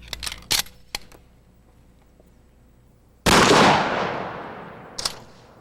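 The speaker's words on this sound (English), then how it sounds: "the mannequin is shot with a rifled slug" Shotgun firing a rifled slug into a mannequin: a sudden loud blast with a long decaying roar after a few sharp clicks and taps, then a brief bright clack near the end.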